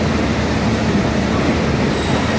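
A sightseeing train rolls steadily along the rails, a loud, even rumble with a constant rattling wash and no pauses.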